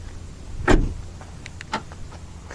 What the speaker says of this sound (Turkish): Şu an kilitledi arkadaşlar. Tık sesini duyduysanız.